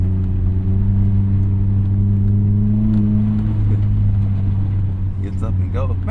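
A Mazda Miata ND3 accelerating on a plowed snowy road, its engine a steady loud rumble that climbs slightly in pitch, heard from inside the cabin with someone talking over it.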